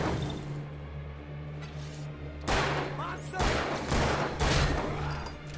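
Gunfire in the video game Alan Wake: several loud, sharp shots burst out one after another over a steady low game hum, close and punchy.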